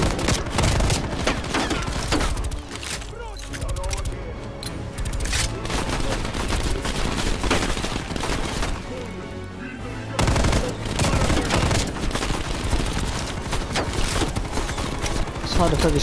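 Dense gunfire in Call of Duty: Black Ops Cold War rattles almost nonstop, with rapid automatic bursts and scattered shots that thin out briefly twice before surging back loud and close.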